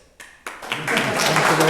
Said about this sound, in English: it's time for a round of applause